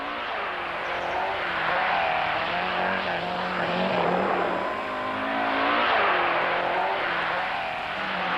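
A rally car at the 1976 Scotland Rally roars loudly past with rising and falling engine pitch, revving through gear changes in a sustained, close, throaty drone.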